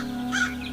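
A single short caw from a crow chick in a Hindi cartoon about a crow and a sparrow, heard close over a steady low hum.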